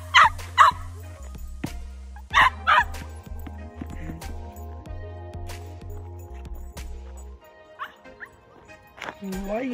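A dog barks and yips outdoors in several short, loud bursts, close by, with a person's voice talking between them.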